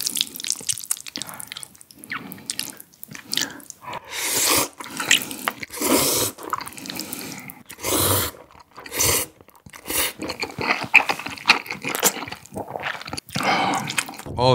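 Close, wet chewing with crunchy bites and slurps from someone eating dongpo pork, tangsuyuk sweet-and-sour pork and dim sum, in repeated bursts with short pauses and no talk.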